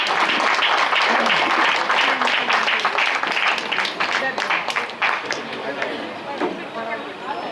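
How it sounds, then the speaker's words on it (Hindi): Dense applause from an audience at a Brahmin community gathering in a hall in Durg, loud and continuous for several seconds before tapering off, with voices talking through it. "जोरदार तालियां होनी चाहिए।"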